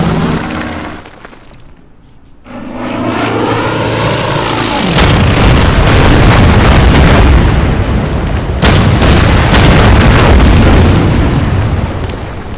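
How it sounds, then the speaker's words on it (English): Bombing-run explosions in the strategy game Order of Battle: U.S. Marines, a sustained rumbling barrage of booms and bursts that builds after a brief lull and keeps rolling loudly to the end. "I could bring it in for a bombing run"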